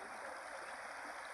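A river flows with a steady, faint rushing hiss, heard from a distance without any talk.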